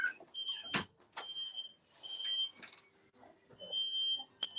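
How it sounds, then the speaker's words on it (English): An electronic smoke detector sounds in a room, giving repeated sustained high-pitched beeps broken by clicks and thumps, fairly close and moderately loud, with no talking. "I think now I got the smoke detectors going on"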